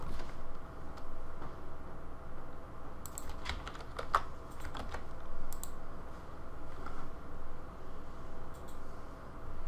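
A computer keyboard is tapped in short bursts of light, close clicking keystrokes while a domain address is entered, over a low steady room hum.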